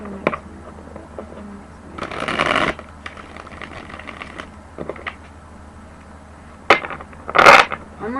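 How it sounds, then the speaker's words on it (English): Tarot cards being shuffled in a few bursts, with a long riffle near the start and sharper snaps toward the end, close and fairly loud, no voices. "One more shuffle"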